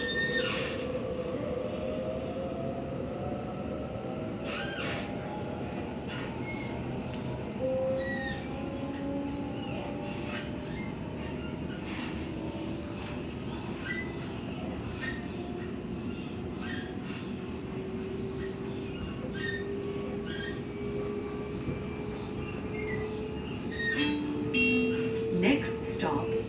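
A Sydney T3 Bankstown Line train runs between stations, heard from inside the carriage as a steady rumble and rising motor whine, with faint talk and occasional clunks over the rolling noise.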